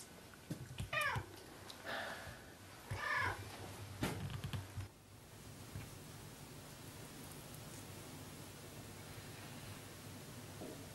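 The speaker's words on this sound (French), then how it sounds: "maintenant je suis mère d'une chat qui crie" A cat in a sculptor's studio meows several times in short, fairly loud cries at close range, then goes quiet over a steady background hiss.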